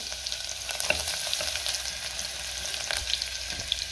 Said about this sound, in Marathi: तेलामध्ये मी हिरवी मिरची घातली आहे, त्यातच बारीक चिरलेला लसूण घालायचा आहे